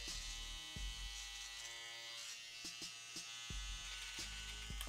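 A hair clipper motor, either a Brio Beardscape or an Andis Slimline Pro, runs with a continuous bright buzz and hum, heard close and steady with a few faint clicks.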